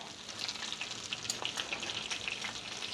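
Chicken thighs fry in a pan with a steady, close crackling sizzle and scattered bright pops throughout, no voices.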